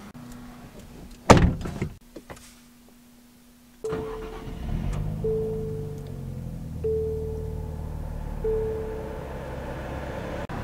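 A door opening and thumping shut on a 2023 Nissan Z sports car with a manual three-pedal layout, a sharp near slam followed by quiet cabin shuffling and soft clicks, then a steady low hum with intermittent tones, no talking.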